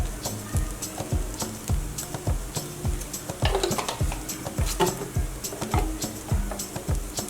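Minced meat fries in a karahi pan over high flame, a steady sizzle punctuated by regular rhythmic scraping and stirring knocks of a spoon against the pan.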